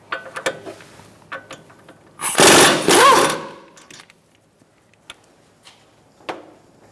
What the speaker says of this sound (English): Using a 19mm socket, we're going to take out these 2 bolts holding our bracket